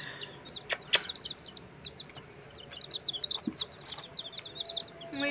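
A rooster clucks and chirps in quick, repeated bursts over a quiet background, with a couple of sharp knocks early on and no talking.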